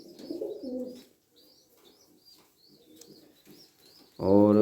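A female straight-feathered pigeon coos in soft, low, throaty phrases close by, with faint chirps over a quiet background, before a voice cuts in at the end.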